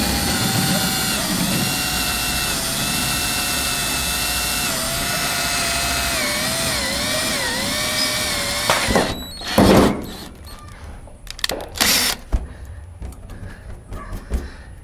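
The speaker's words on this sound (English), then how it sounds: "Alright, bring that hole out a little more." A power drill runs steadily and close for about nine seconds, its pitch dipping under load as it enlarges a hole in a 1956 VW Beetle, then stops, followed by a few clunks and rattles of handling.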